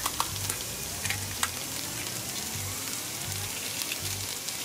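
Garlic and chopped pimento peppers sizzle in a hot pan for a Trinidadian lamb curry, a steady close crackle with a few sharper pops and faint stirring scrapes, no voices.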